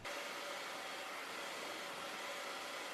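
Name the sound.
blow dryer molding wig hair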